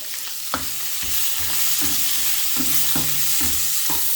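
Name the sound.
stir frying vegetables with garlic and onion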